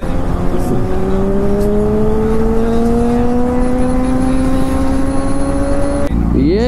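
A Kawasaki Ninja ZX10R superbike is ridden, its engine a steady droning tone that climbs slowly in pitch under acceleration for about six seconds, then shifts abruptly near the end, with wind noise throughout.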